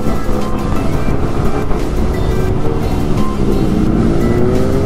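Kawasaki ZX10R motorcycle engine heard while riding, a steady loud drone with wind rush across the microphone, continuous throughout with no voices over it.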